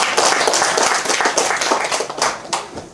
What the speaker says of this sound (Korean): 박수 한번 쳐줘야 되겠죠